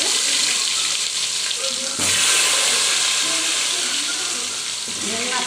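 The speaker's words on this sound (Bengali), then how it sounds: "আলুটা একটু ভেজে নেব।" Potatoes frying in hot oil with bay leaves for a fish dish give a constant loud sizzling hiss close by, with a brief clatter partway through.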